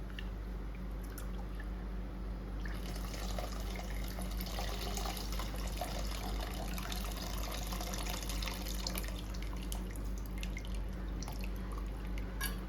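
Tamarind water, dissolved ahead of time, poured into a Chettinad-style fish curry; a steady liquid trickle and dripping runs throughout at moderate level over a constant low hum, with no talking.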